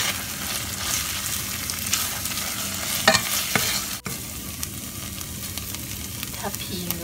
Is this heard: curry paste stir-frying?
yes